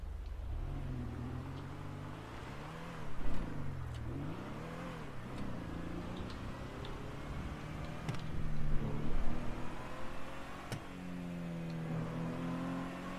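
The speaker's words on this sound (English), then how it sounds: "let's go ahead and take it for a test drive. See if I can get her up to speed now." Minivan engine on a test drive after a transmission swap, revving and accelerating in a few rising and falling surges, heard from inside the vehicle with a steady low road drone throughout.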